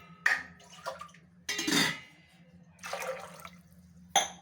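Water poured in separate bursts into a pressure cooker holding soaked chickpeas, several short splashing pours with pauses between them, close and fairly loud, no voices.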